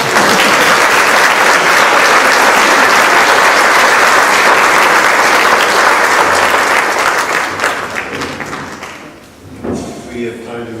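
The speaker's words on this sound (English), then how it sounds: "We can applaud Gasper" Loud audience applause at a city council ward meeting, dense clapping that holds steady for about eight seconds, then fades out, with a few voices and thumps at the end.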